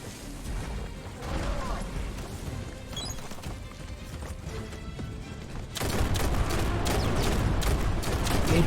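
Dense gunfire and rocket blasts from a Biomutant shootout, a steady roar of shots that jumps louder near the end into a thick barrage, with a voice talking over the first part.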